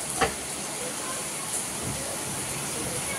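Heavy rain pours straight down in a steady, even hiss that fills the whole stretch, with one brief knock near the start and no voices.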